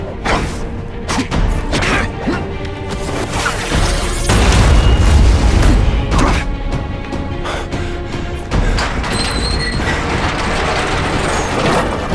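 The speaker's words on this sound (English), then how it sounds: "when I use the seismic blast" A seismic blast attack in The Amazing Spider-Man 2 video game: a heavy, rumbling boom that swells near the middle and sits within a steady din of game effects, with no talking.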